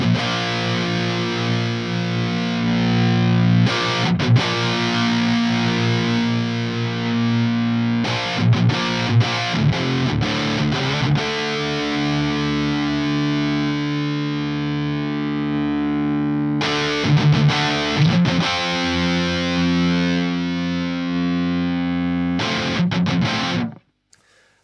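An electric guitar riff plays through a Peavey Valveking 100 tube amp, heavily distorted and continuous, with chugging chords and brief gaps near four, eight and seventeen seconds before it stops abruptly at the end.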